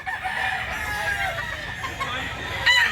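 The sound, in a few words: gamecock roosters clucking and crowing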